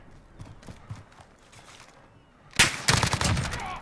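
MG433 light machine gun in Call of Duty Modern Warfare, a few scattered quieter shots and clicks, then a sudden loud, rapid automatic burst that continues close up to the end.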